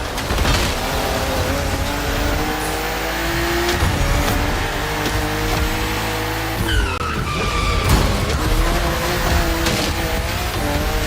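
BMW M2 and M4 cars racing in The Crew Motorfest, with engines roaring continuously, tires squealing through tight bends and gear changes and revs shifting as the cars accelerate, loud and close throughout.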